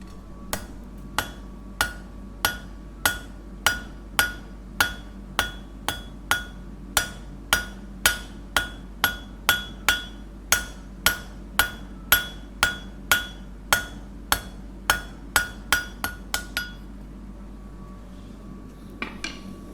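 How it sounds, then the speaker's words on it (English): A blacksmith at a forge strikes hot metal on an anvil with a hand hammer of roughly two pounds, giving about thirty sharp, ringing, evenly spaced blows, close and loud. A lone faint clink follows after a pause. "A hammer, hand hammer, maybe 2 pounds roughly, a kilo sort of weight, and an anvil"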